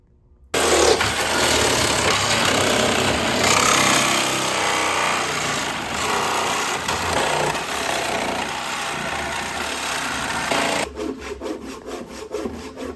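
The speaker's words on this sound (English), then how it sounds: "we're cutting the pallet to make it happen, and Dwayne is using the handsaw" A handsaw rasps through a wooden pallet in quick, continuous back-and-forth strokes, loud and close, before the cutting slows into a few separate scraping strokes near the end.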